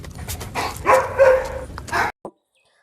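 A dog makes several short yelps and whiny barks close by, ending with a brief final yip before silence.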